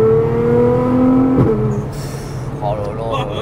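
A Nissan GT-R R35 accelerates hard with a rising engine note that drops at a gear change, then climbs again, loud and close.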